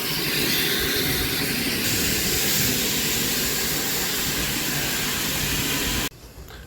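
Steam locomotive 6412 hisses loudly and continuously while taking on water at a heritage railway station, a broad, steady roar of escaping steam close by that cuts off abruptly near the end.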